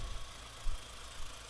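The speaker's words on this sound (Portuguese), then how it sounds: "Carro em marcha lenta." A car engine idles steadily after starting, a low continuous rumble with slight fluctuations, heard during an ignition system check on a vehicle being tested for a spark leak.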